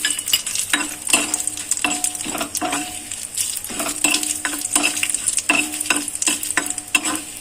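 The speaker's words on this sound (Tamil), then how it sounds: "உளுத்தம்பருப்பை ரொம்ப வறுத்துடக்கூடாது, பொன்னிறமாக வறுக்கணும்" Urad dal frying and being stirred in a pan, a steady sizzle broken by repeated scraping strokes of the spoon every half second or so, close and fairly loud throughout.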